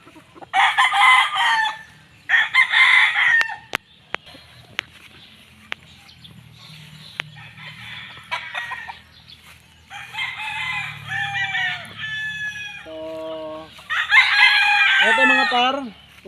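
Five-month-old Boston Millionaire gamefowl rooster crowing on a gamefarm, several loud, close crows broken by quieter clucks and gaps, with people talking softly in the background.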